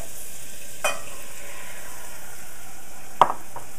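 Onions, celery and carrots sauté in butter in a hot pot, a steady soft sizzle with occasional sharp scrapes or clinks of a utensil stirring.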